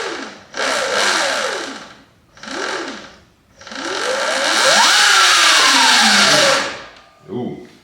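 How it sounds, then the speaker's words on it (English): A Surron LBX electric dirt bike with a TORP controller whines up and down in several rising and falling bursts, a high electric motor pitch sweeping with throttle, the longest burst held for a few seconds, close and loud. "let's see if the bike runs."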